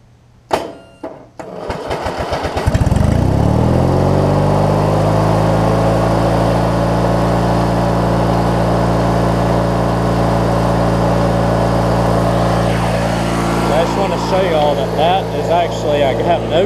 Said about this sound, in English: So let me crank the mower up.